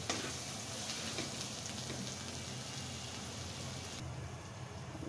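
Tomato, bitter gourd and potato sizzle steadily in a hot pan, a close, even frying hiss that continues throughout and drops away slightly near the end.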